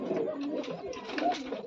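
Domestic pigeons coo softly at night, a low murmuring chorus that is close but faint and continuous.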